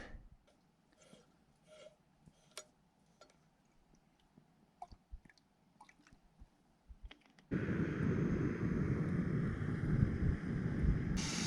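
A camping stove heating water during wild camping on the Long Mynd, with faint scattered ticks and clicks that give way to a sudden, steady, close roaring hiss.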